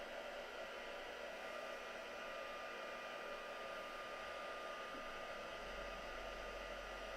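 A hair dryer blows steadily on small spots of craft paint, giving a constant close whir with a faint tonal whine and no pauses.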